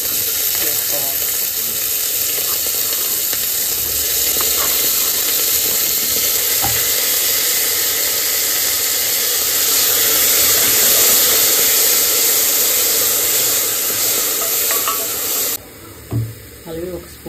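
Chopped onions and tomatoes sizzle steadily in hot oil in a pan, a loud continuous frying hiss with a few stirring scrapes, cut off abruptly near the end by short clinks.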